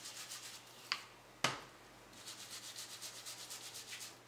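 Chalking ink colors are blended on paper with a powder puff, making soft, quiet, rhythmic rubbing strokes. A couple of sharp taps come first, and no one speaks.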